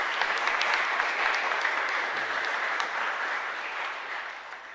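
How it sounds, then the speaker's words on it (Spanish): A congregation at Mass in a parish church in Asunción claps for the priest, a steady wash of applause that holds evenly for several seconds before gently tapering off. "un fuerte aplauso para el padre."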